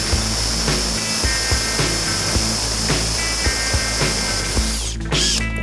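A power drill whines steadily and close, with a high sustained tone and rhythmic grinding pulses as it bores a hole using a guide system, then winds down near the end.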